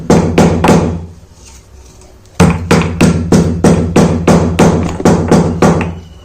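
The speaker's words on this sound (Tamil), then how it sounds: "இது நல்லா இடிச்சுக்கோங்க" Cloves being pounded for a homemade hair dye powder: a steady run of sharp, loud thuds, one every half second or so, pausing briefly before resuming at the same pace, close and alone with no talking.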